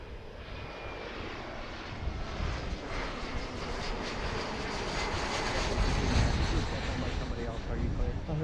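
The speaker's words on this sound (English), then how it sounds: "We watch the American E175 land on runway 27 right" An American Airlines Embraer E175 lands on runway 27 right at Philadelphia, its engine roar a broad rumbling wash that swells gradually louder toward the end, heard from a distance with radio chatter partly underneath.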